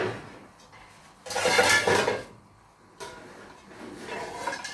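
A main cooking pot with a knob lid handled in a home kitchen while making Nigerian bitterleaf soup, giving bursts of metallic clatter and scraping, loudest in the middle and returning more softly at the end.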